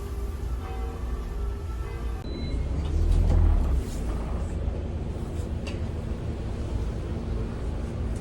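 Inside a city bus riding through Paris, a steady low engine rumble and road noise continue throughout, swelling briefly louder near the middle, with no talking.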